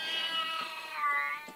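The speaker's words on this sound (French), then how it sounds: "Là, c'est mon chat qui veut sortir," A house cat at a window meows and wails steadily for over a second, fairly soft and close, wanting to go outside while heavy rain falls.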